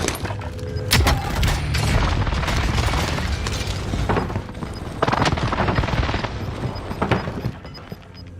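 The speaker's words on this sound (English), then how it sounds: "Enemy precision airstrike." Precision airstrike explosions in a battle royale game, with loud, continuous booming blasts and rumbling bursts that overlap without pause and then tail off toward the end.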